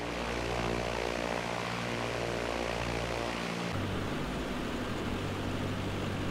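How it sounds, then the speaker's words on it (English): A propeller airplane engine starts up in a flight simulator with a loud, steady droning hum. The pitch shifts partway through as the engine settles into a continuous run, with no talking. "Let's get this plane started up and let's get on our way."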